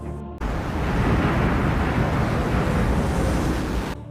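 Tsunami waves crashing through a city in a disaster film, a loud, sustained roaring surge of water that fills nearly four seconds after a brief quiet start, then cuts off abruptly.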